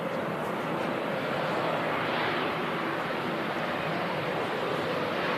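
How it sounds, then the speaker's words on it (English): A TAP Air Portugal Embraer 190 airliner arrives at Manchester Airport, its engine noise a steady, loud broadband rumble and hiss with a slight swell midway. "We've got this Embraer 190 Watermelon Airlines coming in from Lisbon. It's TAP Air Portugal 190."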